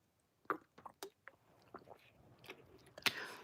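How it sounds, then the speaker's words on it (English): Gum being chewed close to a microphone, with soft wet smacks and small clicks in an irregular rhythm, quiet and intimate, growing slightly busier toward the end. "Let me stop chewing this gum."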